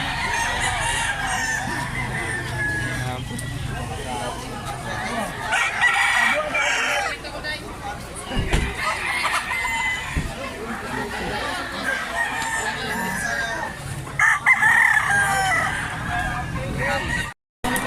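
Chickens cluck and a rooster crows amid a noisy outdoor scene, with people talking over the birds throughout.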